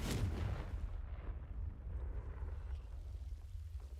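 A Confringo spell blast in a wizard video game lands as a loud low boom at the start, then a rumbling, crackling roar that trails on for several seconds, with no talking.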